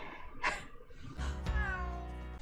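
A house cat gives a short meow followed by a longer, drawn-out meow, close and fairly quiet indoors.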